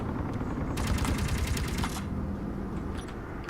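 Turrets in the video game Space Engineers fire rapid bursts of clattering shots over a steady background rumble, a dense run lasting about a second before fading.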